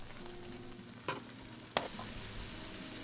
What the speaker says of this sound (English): let's stir this around for a couple minutes